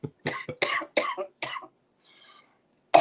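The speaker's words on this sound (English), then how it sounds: "Coughing, laughing, and choking at the same time." A man coughs hard in a rapid series of harsh, close bursts, then falls quiet with a faint wheeze before one more cough.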